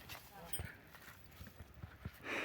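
A working horse walks with a few dull hoof clops on the ground outdoors, spaced irregularly and fairly faint, while voices talk in the background.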